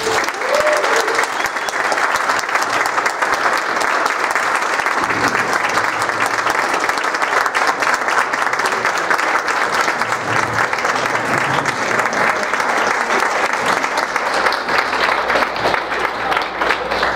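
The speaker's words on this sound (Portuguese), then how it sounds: "Uma salva de palmas para eles." Steady, loud audience applause that goes on without a break, a dense wash of many hands clapping together.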